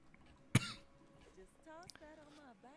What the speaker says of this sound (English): I don't know why I cough when I come down here all the time now to stream